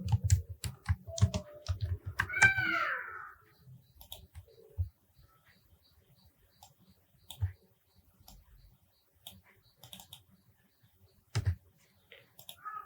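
Bursts of computer keyboard typing, fairly close, entering text during a T-shirt design session in graphics software, with a few scattered key clicks and quiet pauses afterward.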